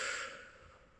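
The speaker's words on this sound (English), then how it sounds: "And then you slowly breathe out" A single slow, breathy exhale during a four-count breathing exercise in a singing lesson, soft and close, fading away over about a second.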